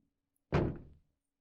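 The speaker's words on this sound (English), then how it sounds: "I closed the door." A single heavy thunk as a door closes in the video game Otogirisou, sharp and close, fading within half a second and followed by silence.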